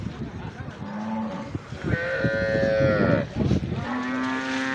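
Cattle at the Kharian livestock market moo repeatedly, close and loud: several long, drawn-out calls follow one another over a steady background of market noise.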